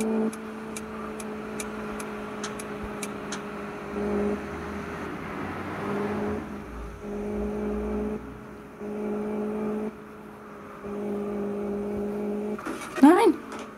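A Seat Ateca engine in the Santorini level of a driving school simulator game hums as a steady, moderately loud drone that rises slightly, with a voice talking over parts of it.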